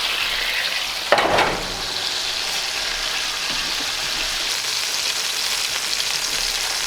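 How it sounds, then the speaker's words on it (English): Steak sizzles on a grill with a steady, dense crackling hiss, opened by a brief louder burst of spitting as the meat goes back on, then continuing evenly close up. "Now we'll get this back on the grill."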